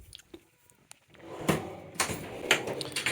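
Drawer of a Snap-on or Blue Point tool service cart opening and closing, a few sharp metallic slides and clunks, some quieter rattles first and then three louder thumps spaced about half a second apart.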